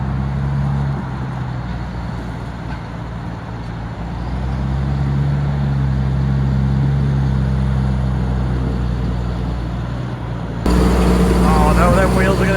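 A Valtra tractor engine runs steadily with a low, continuous rumble through the clip, growing a little louder near the end, with water splashing on the exhaust on a grassy lane beside a dual carriageway.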